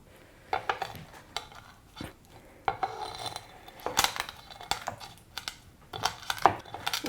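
Mustard and cumin seeds crushed under a knife or cleaver on a cutting board: irregular gritty crunches, scrapes and taps of the blade pressing down, close and fairly quiet, with no talking.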